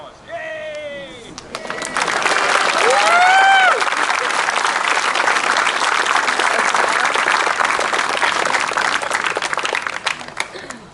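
At the Kai Oni and Kailua canoe blessing at Kailua Beach Park, an outdoor crowd breaks into loud, sustained applause with cheers and whoops, following a brief shout at the start.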